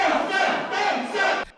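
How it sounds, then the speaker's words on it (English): On the Penghu Islands, a crowd of local supporters roars an impassioned cheer for a Democratic Progressive Party election candidate, with loud surging shouts in two or three swells before cutting off abruptly. "Penghu locals give an impassioned cheer for Democratic Progressive Party candidate Chen Guangfu."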